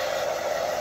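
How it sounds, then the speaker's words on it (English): A hair dryer blowing at a steady, loud, constant whir, close up with no other sounds. "you know that I use a hairdryer"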